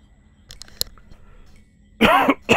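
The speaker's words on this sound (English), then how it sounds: "Pardon my coughing" A man coughs and clears his throat in a few short bursts, then gives a louder, harsher double cough near the end. Quiet background, with no other voices.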